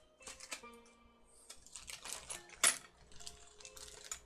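M6 washers being picked up and handled during a 3D printer kit build, small metallic clinks and clicks coming in irregular bursts, with one sharper clack, close and fairly quiet, no talking.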